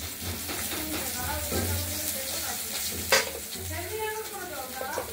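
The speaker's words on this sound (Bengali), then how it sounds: "ফোড়ন দেবো, তেজপাতা, লঙ্কা, কালো জিরে, সাদা জিরে।" Bay leaf, dried chili, black cumin and white cumin hitting hot oil give a steady close sizzle and frying crackle, with a sharp clatter near the middle and faint voices underneath.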